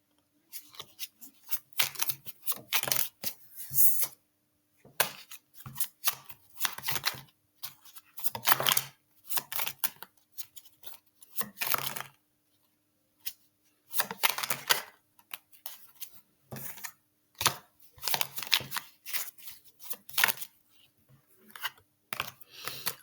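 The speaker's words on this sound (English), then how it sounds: "let me shuffle before I say something" Playing cards being shuffled by hand, sharp riffling bursts of crisp papery clicks repeating in quick irregular runs with short pauses between, close and fairly quiet, with no talking.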